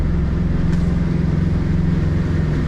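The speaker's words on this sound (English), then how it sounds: "shut off the starboard motor. We're going to run just the port motor." A twin-outboard boat cruises on only its port motor with the starboard motor shut off, giving a steady, close, throbbing engine drone and water rush that holds constant throughout.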